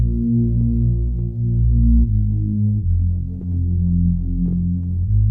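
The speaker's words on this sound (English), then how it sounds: "we're introducing this bass synth from Nexus." A Nexus Prids sidechain bass synth plays a sustained, throbbing low bass line with pumping sidechain dips and shifting notes, loud and steady, in a track built in FL Studio.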